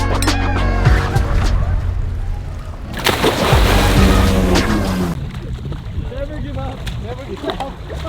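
Steady engine drone and rushing water from a moving boat off Dubai's man-made islands, with wind and splashing throughout and a voice heard briefly over the noise.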